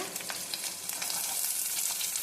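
Chopped onion hisses and sizzles in hot oil in a pan for a village-style horse gram saaru, a steady crackling fry with soft stirring, close and continuous.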